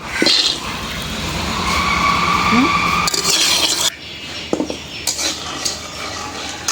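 A metal spoon scrapes and clatters against a pan while peanuts are stirred and dry-roasted, loud and close, with irregular scraping strokes, a few sharp clinks and a rattle of the nuts.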